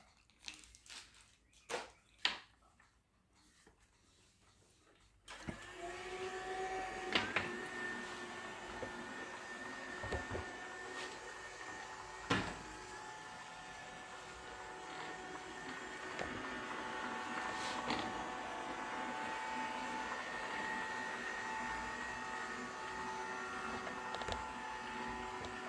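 Dwi Dowellin robot vacuum cleaner running: after a few scattered knocks and handling clicks, a steady quiet motor whir with brush hum starts and continues, broken by occasional taps as it bumps along.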